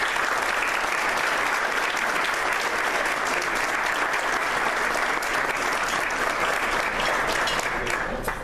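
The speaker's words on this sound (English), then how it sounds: "How about a big round of applause for Mr." Sustained, loud audience applause fills a hall at the Gibraltar Carlson 2015 Hall of Fame induction, dense steady clapping from a large crowd that continues without break and tapers slightly at the end.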